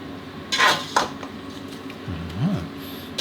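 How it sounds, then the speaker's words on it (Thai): Curry paste and fish sauce for a Thai chicken and gourd curry are stir-fried in a metal pan, with a few sharp spatula scrapes and clanks against the pan over a faint background hum. "แล้วก็ผัดเครื่องทุกอย่างให้เข้ากันดีครับเนี่ยให้น้ำปลาให้น้ำปลาเราโดนความร้อนครับจะออกกลิ่นหอมขึ้นมานะ"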